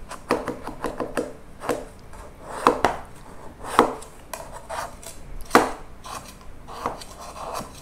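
Metal spatula scraping and tapping around the side of a pan to release an Oreo chiffon cake, a series of sharp, close clicks and scrapes in an irregular rhythm, with no talking.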